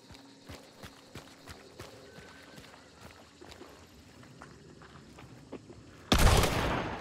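In Hunt: Showdown, quiet footsteps and small ticks lead up to a single loud, sudden slug gunshot near the end that rings out briefly afterward.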